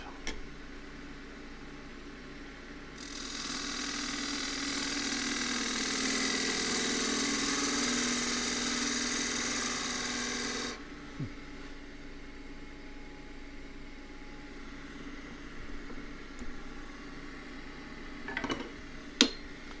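A 3/8 spindle gouge with a 1/4-inch flute cuts a spinning workpiece on a wood lathe, giving a steady hiss that lasts about eight seconds over the motor's hum, then stops, leaving the lathe running alone.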